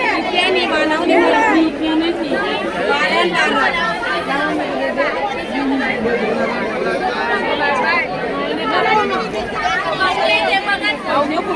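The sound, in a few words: crowd chatter at Malad wholesale fish market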